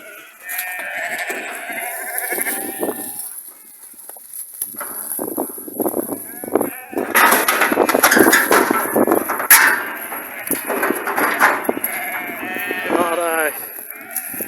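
Sheep bleat repeatedly, close and loud, as rams are let out to join ewe lambs on a farm, with overlapping calls and some hoof clatter throughout.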